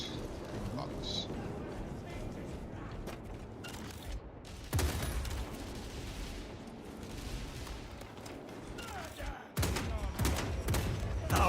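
Bursts of gunfire volleys in Warhammer 40,000: Space Marine 2, loud and dense with sharp onsets around five and nine and a half seconds, set against continuous game noise and talking voices.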